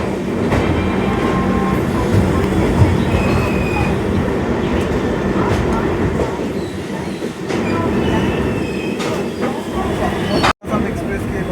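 Assam Express passenger train running on the rails through tea estates in monsoon, heard from inside: a loud, continuous rumble with wheel clatter and occasional squeals. Speech sits under it and a sharp break comes near the end.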